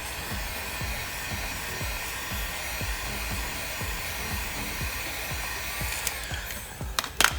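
A heat gun blows steadily, warming vinyl wrap film on a Nissan Skyline KGC10 during a DIY wrap, a constant whooshing hum with faint clicks and taps near the end.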